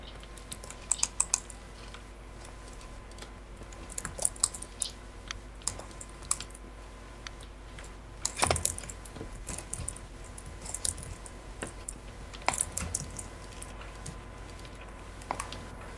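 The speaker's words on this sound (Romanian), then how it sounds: "Ce, mi-auzi mouse-ul? Mi-auzi click-ul?" Clicking of a computer mouse and keyboard during a Minecraft survival game session, light scattered taps and clicks close to the microphone, sometimes in small clusters, over a faint steady hum.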